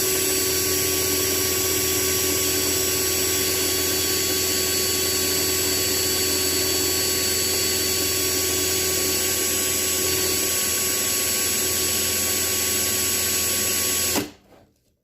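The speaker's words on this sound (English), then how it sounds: "we're using power tools in this video" Power drill boring into the post of a Matchbox/Hot Wheels die-cast car, a loud, steady whine running continuously for about fourteen seconds before cutting off abruptly.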